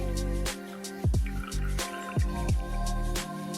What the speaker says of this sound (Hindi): ये आधा कप कुकिंग ऑयल भी हम इसमें डाल देंगे।